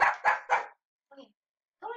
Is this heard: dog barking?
yes